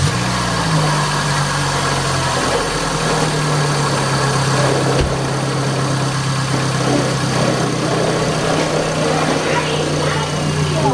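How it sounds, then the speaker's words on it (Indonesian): A Suzuki Swift engine with racing coil cables turns over and settles into a steady, low idle, humming evenly throughout with a faint mechanical rattle. "Kita starter mobilnya dulu ya, kita lihat mobilnya anteng atau enggak."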